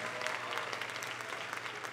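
Church audience clapping steadily throughout, a dense, continuous patter of many hands at moderate loudness, with no voices standing out.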